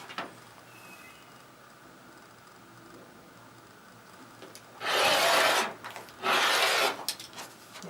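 Rotary cutter or blade sliding along a quilting ruler through layered quilt fabric, slicing 2.5 inch strips: two loud, sustained scraping cuts of about a second each, close up, after a quiet stretch with no talking.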